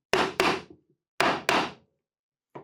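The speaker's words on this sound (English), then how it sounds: "I can make sure that the head of my hammer is perfectly flat and give them a couple of extra taps." A hammer taps nails into the wooden base of a DIY toolbox, giving two pairs of firm, close knocks followed by a brief fifth hit at the end, with no talk.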